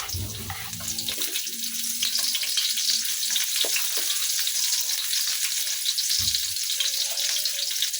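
Onion frying in olive oil, with tomato nearby in the pan: a continuous hissing sizzle dominates, broken early by a clatter of utensils and a brief low knock later on.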